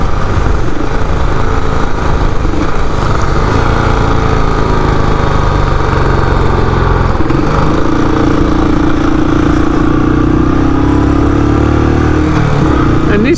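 Royal Enfield Classic 500 Tribute Black Edition motorcycle cruising on a freeway, its engine a steady loud drone mixed with wind rush throughout, with a voice talking over it.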